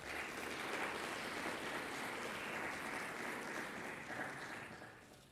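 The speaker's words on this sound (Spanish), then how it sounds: "la recibimos con un fuerte aplauso" An audience at a university lecture applauding to welcome a speaker, steady, even clapping from a crowd heard at a distance that fades slightly at the end.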